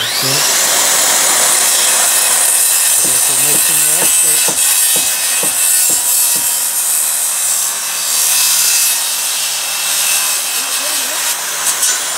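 A saw cuts through a wooden rafter while a new deck is being framed, loud and close, with a rapid run of rhythmic strokes in the middle over a constant harsh mechanical roar.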